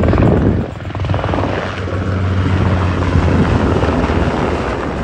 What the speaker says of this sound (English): Now the Seahawk is the Royal Australian Navy's next generation surface warfare helicopters.